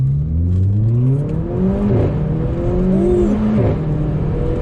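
A Mercedes CLA45 AMG (W117, Stage 1) engine revs hard in sport mode, pitch sweeping up and down through several throttle blips, loud and close with a growling exhaust tone.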